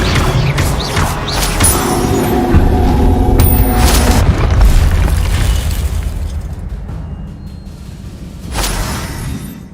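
A Confringo explosion spell goes off in the video game Hogwarts Legacy: a loud, sustained booming blast with crackling debris and rumble that slowly fades, then a second smaller burst near the end.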